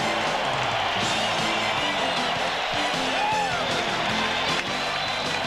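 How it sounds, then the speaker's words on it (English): A packed basketball arena crowd roars steadily for Kobe Bryant's finish in a Lakers vs Spurs game, a dense sustained wall of cheering with occasional whoops. "And listen at this crowd. He is electrifying them here with this move."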